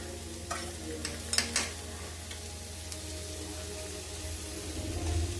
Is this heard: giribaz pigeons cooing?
no